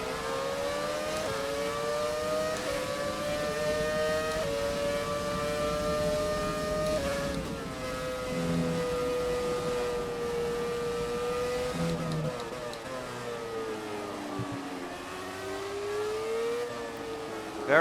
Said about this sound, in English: Nice early 90s V10 soundtrack for you.